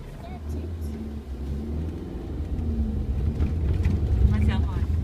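A 25-year-old car drives along a road, its engine a low steady rumble that rises a little toward the end, with people talking inside.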